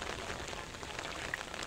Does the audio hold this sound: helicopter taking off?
no